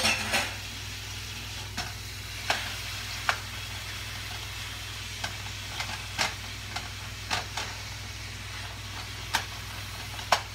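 Ground bison sizzles steadily in a pan for a paleo lasagna, a constant frying hiss broken by sharp scraping clicks as a utensil stirs and breaks up the meat, close and moderately loud with no talking.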